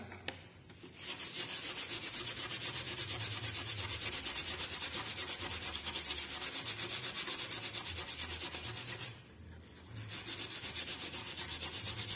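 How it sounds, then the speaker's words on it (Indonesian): An etched copper PCB is scrubbed steadily by hand, a continuous close abrasive rubbing sound that stops briefly twice before resuming. "Sekarang di akhir kita juga gosok dulu PCB-nya supaya nanti jalurnya kelihatan."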